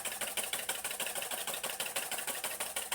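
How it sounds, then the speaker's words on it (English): Egg whites being whisked by hand for blueberry corn pancake batter, a fast, steady back-and-forth rattle of the whisk against the bowl, close and continuous with no talking. "And I'm going to whisk these egg whites up."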